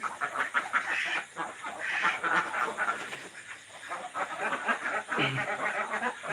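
Farm ducks quack and chatter continuously at moderate distance, a busy overlapping flock sound with faint background voices.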